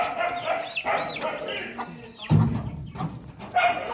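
Chickens cluck nearby in short, uneven bursts, with a louder rooster call rising partway through, amid background noise of a livestock fair in Sri Muktsar Sahib, Punjab.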